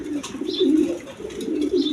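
Pigeons in a breeding pair, lively and active, coo steadily in low throaty warbles close by, with faint chirps above and no talking.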